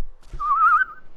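A single referee whistle in the FIFA 23 video game, one clear sustained blast lasting under a second, close and loud with nothing else around it.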